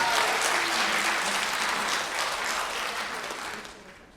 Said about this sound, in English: Applaudissements pour Emilie,